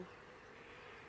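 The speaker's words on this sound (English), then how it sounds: "There's a bee right there with pollen" A honey bee at a small, weak hive gives a soft, steady buzz that holds evenly throughout, faint and close, with no other sounds.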